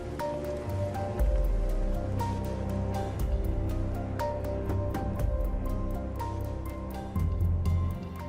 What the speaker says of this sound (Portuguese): A chuva cai rapidamente ao longe, mas está muito distante.